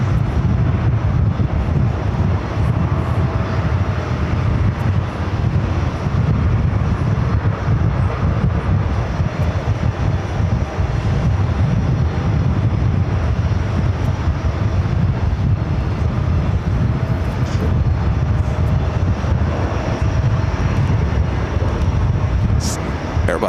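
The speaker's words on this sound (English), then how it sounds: "Airbus A220-300. Jetting out of here like a rocket." An Airbus A220-300 jet takes off at JFK with a steady, loud low-heavy engine roar and wind rumble that persists unbroken throughout, no voices over it.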